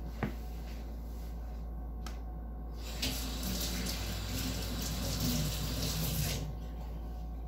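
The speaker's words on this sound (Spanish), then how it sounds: "así me voy a lavar las manos" A water tap running while hands are washed at a sink, starting after a couple of faint knocks. The flow is a steady hiss, close and moderate, and it stops near the end, with no talk over it.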